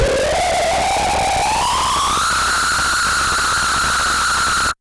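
A harsh Korg MS2000 synthesizer tone slowly glides upward in pitch, buried in loud added hissing noise, steady and abrasive until it cuts off abruptly.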